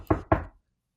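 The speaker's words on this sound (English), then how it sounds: "So they knock." Two firm knocks on a door, close and loud, evenly spaced in quick succession, followed by silence.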